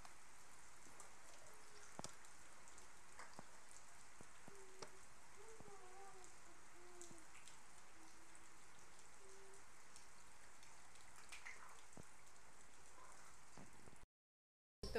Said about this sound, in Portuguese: tá chovendo, então dá um barulhinho aí de chuva ainda